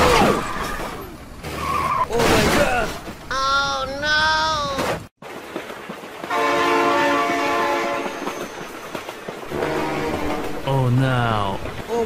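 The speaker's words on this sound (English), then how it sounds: "train!" Toy train horn and rumbling wheels from a long toy train rolling over speedbumps, heard as loud tonal horn blasts over steady rumble, with excited voices shouting nearby.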